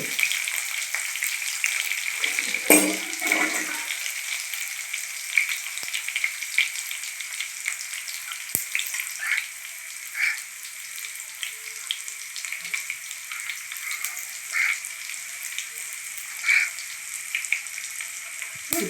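Garlic sizzles and crackles steadily in hot oil for a brinjal curry, with a close, continuous frying hiss, an occasional stir and a few soft clinks.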